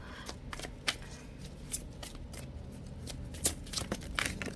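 Slick tarot cards being spread and slid across a surface, a quiet run of soft papery flicks and riffles in irregular bursts, close and faint with no talking.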